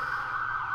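An ambulance siren wails outside in a brief snatch of a steady, high tone, fairly faint and distant, with no talk over it.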